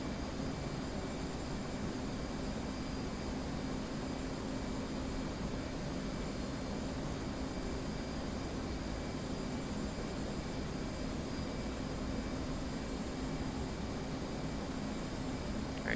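An F/A-18 Hornet's jet engines roar in flight in the DCS combat flight simulator, cruising near Mach 0.9 with two external fuel tanks, a steady, unbroken broadband rush heard alone for the whole stretch.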